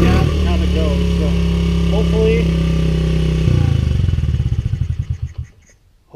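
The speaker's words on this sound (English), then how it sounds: "you want to be able to just kind of stab the gas and have it go" A Honda CRF 50 dirt bike with a freshly cleaned carburetor runs loud and close, holding a steady high rev and then dropping into choppy, pulsing idle beats that fade to near silence.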